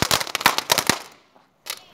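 Firecrackers set off for Diwali in a quiet, empty lane crackle in a rapid burst of sharp, loud pops close by, then fall silent before one more short crackle near the end.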